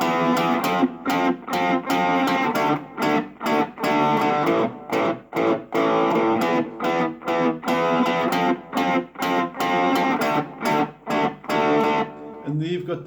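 Overdriven electric guitar strumming a four-chord verse progression from a rock song, played through twice; rhythmic chopped strums at steady volume, ending with a brief decay.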